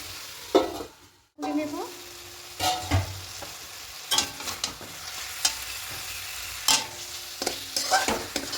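Chicken cooking in a pan without oil, a spatula stirring and scraping in irregular strokes over a soft wet sizzle, close and fairly quiet, with no talking.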